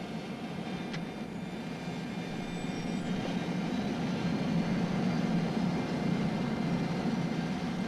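Aircraft engines build steadily in power for takeoff, a continuous broadband roar with a low droning hum that grows slightly louder over the clip, heard alone with no talk.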